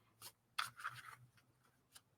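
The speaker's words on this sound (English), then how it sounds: "So let's just give it a quick shuffle." Halloween tarot cards are given a quick riffle shuffle, a few short dry papery bursts of slippery cards rubbing against each other, fairly quiet and close, with no talking.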